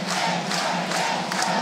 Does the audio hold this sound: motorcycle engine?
no